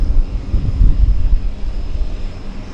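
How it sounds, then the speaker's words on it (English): A plane at a downtown harbour airport in Vancouver takes off with a loud, steady low engine roar. The sound swells and wavers throughout, with some wind buffeting on the microphone. "Love the takeoff here."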